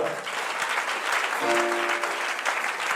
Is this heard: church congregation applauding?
yes